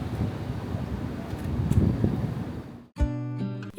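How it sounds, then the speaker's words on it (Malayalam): Strong evening wind buffets the microphone outdoors in a city market area, a loud, rough rumbling gust that swells and fades, followed by a sharp tonal clatter as it drops away. "നല്ല കാറ്റുണ്ട്."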